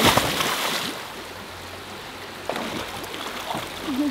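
Water in a deep, clear river where people are bathing, a steady broadband rush with splashes and a few brief voice-like sounds over it.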